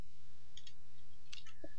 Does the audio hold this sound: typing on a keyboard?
yes